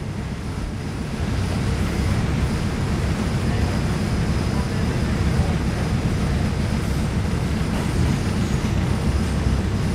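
Onboard the Phra Chom Klao–Lat Krabang feeder train, a steady rushing rumble of the moving carriage with wind-like noise, close and constant throughout, picking up slightly after the first second.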